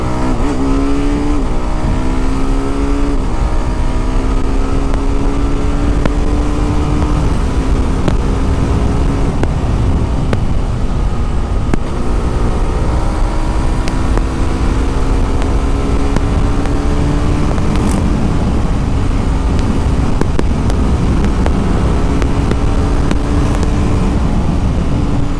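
A 2025 TVS Apache RR 310 motorcycle engine revs hard and steadily at close range, its pitch climbing and dropping in stepped sweeps as the quick shifter snaps through gear changes, with no talking.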